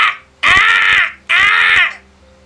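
A single crow caws loudly and close, with two long harsh calls in a row and short silence between.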